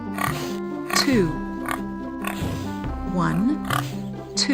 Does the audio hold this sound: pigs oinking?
yes